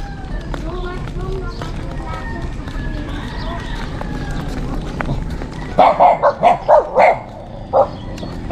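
Several dogs bark in a quick run of sharp, fairly close barks near the end, following a stretch of street noise and people talking.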